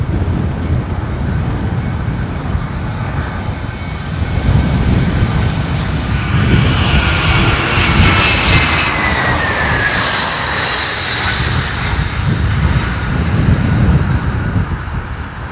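A Dassault Falcon 900 business jet roars past at London Heathrow in crosswind conditions, a loud sustained engine rumble with a rising whine that swells and fades over about fifteen seconds, no talking.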